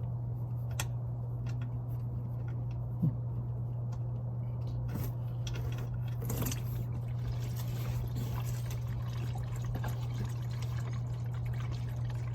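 Engine oil drains from a Subaru Outback into a drain pan during a 2024 oil and filter change, a soft steady trickle and pour running continuously under a constant low hum, with a faint click partway through.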